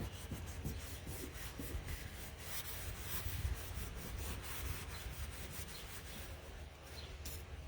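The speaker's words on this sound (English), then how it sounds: "I'm rubbing it the opposite direction up here, so it's kind of giving it a little funk to it." Steady scratchy rubbing of paint onto a wooden shutter during an outdoor craft project, a continuous close, quiet friction sound with short repeated strokes and no talking.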